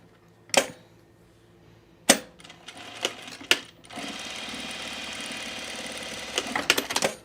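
A sewing machine stitching the back seam of a blazer's under collar, a few sharp clicks and short bursts first, then a steady continuous whir running for several seconds before stopping with a few final taps.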